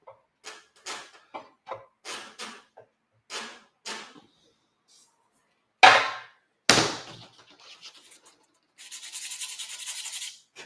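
Sharp metallic scraping and prying taps on a dented metal tank come in short bursts, followed by a couple of louder clanks and a faint raspy rubbing near the end.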